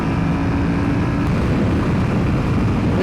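A BMW F900XR motorcycle speeds in fifth gear on the Autobahn, giving a loud, steady, unbroken roar of engine and rushing wind with no talking.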